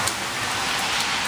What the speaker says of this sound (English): Did you like that rain?